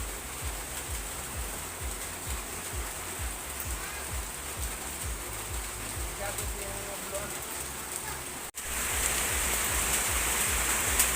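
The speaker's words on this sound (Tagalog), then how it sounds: "malakas na po yung ulan" Steady, loud rain pours down continuously, a dense hiss with a brief dropout before it resumes even heavier.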